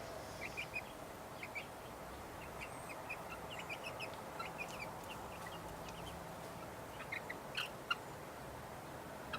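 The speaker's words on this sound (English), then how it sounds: "Come on, chickies. I'll get your food out here in a minute." Chickens cluck softly and intermittently in a sheltered coop area, several birds making short scattered calls over a low, steady background, with no speech during these seconds.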